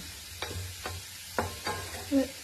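Onions fry in a pan under a soft, steady sizzle, with a few brief spoon scrapes spaced apart and a faint low hum beneath.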